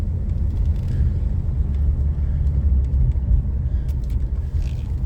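A car rolls slowly along a loop road through an arboretum near Battle Creek, Michigan, heard from inside as a steady, close engine and tyre rumble with no talking.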